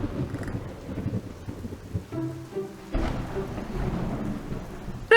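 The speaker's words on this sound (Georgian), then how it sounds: "რა ძლიერი წვიმა" Heavy rain pours steadily in an animated cartoon scene, with rolling thunder building and a louder crack near the end, all close and without talk.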